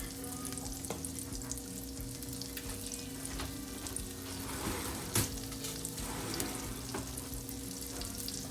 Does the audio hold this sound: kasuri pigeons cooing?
no